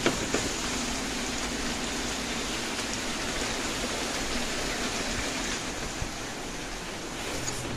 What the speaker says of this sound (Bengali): কি সাংঘাতিক বৃষ্টি। জল পড়ছে